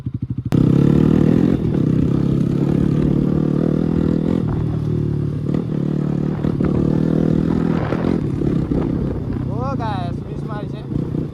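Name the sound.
motorcycle engine revving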